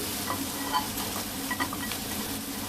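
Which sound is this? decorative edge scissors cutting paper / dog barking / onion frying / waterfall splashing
onion frying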